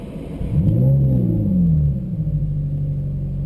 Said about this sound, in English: engine start button on the steering wheel